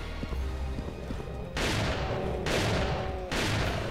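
Gunfire in the video game Doom TNT: Evilution, with three loud, heavy blasts roughly a second apart after a quieter stretch of background game noise.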